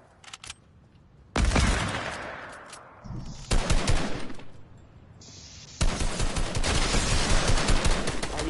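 Video game gunfire in bursts of rapid automatic fire, loud and close, separated by quieter gaps, with one long sustained volley near the end.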